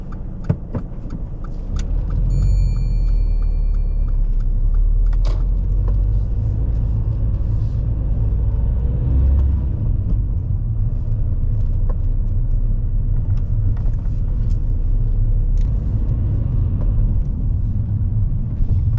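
A car pulling away on a driving test, with a low steady engine rumble and road noise that holds throughout, a few small clicks and rattles early on, no speech.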